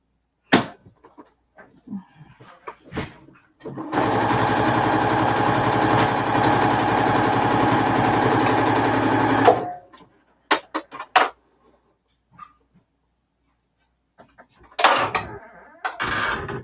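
A sewing machine stitches a drawstring bag in one steady run of about six seconds, a close, even mechanical rattle, framed by scattered clicks and handling knocks before and after.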